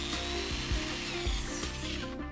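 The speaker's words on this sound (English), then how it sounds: "Drill the wood with a 4 to 5 millimeter drill." A 4 to 5 millimeter drill bores steadily through hardwood for a homemade metal clamp, giving a continuous grinding, rubbing whir with slight pulsing variations and no talk.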